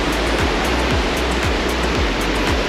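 A constant, dense roar of water from Devil's Punchbowl waterfall at Arthur's Pass, running high after heavy rain, fills the air loud and near without pause and with no one speaking.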